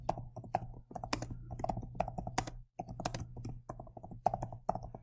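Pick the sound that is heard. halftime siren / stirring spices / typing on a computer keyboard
typing on a computer keyboard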